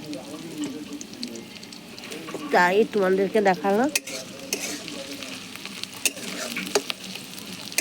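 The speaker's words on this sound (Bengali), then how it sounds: "এই যে পেঁয়াজ ভাজা হচ্ছে" Onions frying and being stirred in a pot over an outdoor wood-fired stove, a continuous crackling sizzle with scraping stirs and sharp clicks, while a voice speaks briefly over it.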